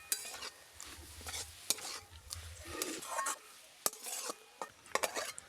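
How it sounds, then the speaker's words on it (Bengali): A spoon stirs fried cauliflower filling in a pan after sugar and chopped coriander go in, giving repeated close scraping and clinking strokes over a faint background sizzle, with no talking. "এবার আমি 1 চামচের মতো চিনি আর ধনেপাতা কুচি দিয়ে 1 মিনিট ধরে এটাকে ভালো করে মিশিয়ে নেব।"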